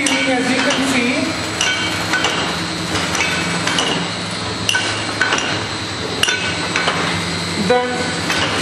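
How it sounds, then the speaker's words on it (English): A piston liquid filling machine fills bottles with loud rhythmic clanking, clinking and knocking of metal parts, repeating in a steady mechanical cycle near at hand. "So basically we want to do is fill this with liquid, piston filling"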